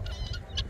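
A guinea fowl being fed with kemre gives a short, close honking call, a few quick harsh notes within under a second.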